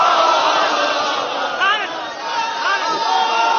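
A large crowd at a religious gathering addressed by a cleric loudly chants a Haidari slogan, a dense mass of shouting voices with rising and falling cries, close and loud throughout the short stretch.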